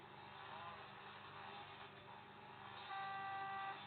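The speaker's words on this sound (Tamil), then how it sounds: "ஹார்ன் சவுண்ட் எப்படி இருக்கு பாருங்களேன்," Toy-like car horn in GTA San Andreas, sounding as a few thin bright tones over steady engine and game background noise, stronger toward the end.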